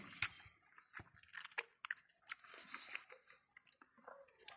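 Close, crisp chewing of a firm, crunchy Karina sweet cherry, a series of small crunches and mouth sounds, with no talking.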